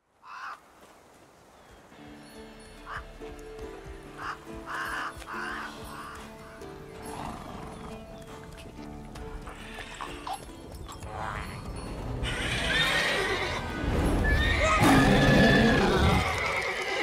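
A horse in The Witcher 3: Wild Hunt neighs and whinnies amid game sound effects, the calls growing louder and busier toward the end.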